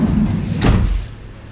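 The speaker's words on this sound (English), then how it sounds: "So when I close doors" A door on a Fiat Doblo van is pushed shut, giving a single dull thud with a short rattle, close by, over a low steady background rumble.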